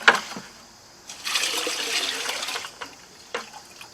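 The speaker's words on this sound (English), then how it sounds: "so I'll slosh this around so that they won't stick to the" Tomato seeds from Ox Heart heirloom tomatoes are swirled in water inside a bucket. The water sloshes and splashes in uneven surges for a few seconds, close by, with brief knocks against the bucket.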